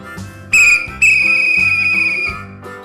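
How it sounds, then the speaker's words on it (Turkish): A shrill toy train whistle blows in two bursts, the second held longer, over a chugging rhythmic background. "sonra raylardan Spencer'ın sesi duyuldu"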